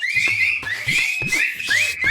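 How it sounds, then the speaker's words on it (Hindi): A whistle blown in four sharp, shrill blasts in steady succession, each tone rising slightly at its start, loud and close with no talking. "सीटी बजाओ।"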